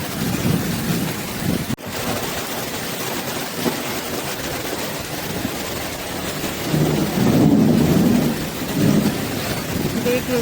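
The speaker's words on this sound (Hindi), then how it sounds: "इतनी तेज़ बारिश पड़ रही है" Heavy rain pours in a steady wash while low thunder rumbles build and roll through the middle and end, with one sharp crack near the start.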